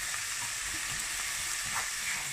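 Stir-frying in a pan, a steady, dense sizzle with faint scraping of the utensil, continuous and close with no talk.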